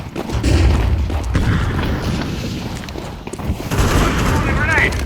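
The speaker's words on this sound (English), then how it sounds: "I'm throwing a flashbang." A Counter-Strike 2 match erupts in dense, close bursts of rapid gunfire and booms of a flashbang, continuous and loud, with game voice callouts mixed into the chaos.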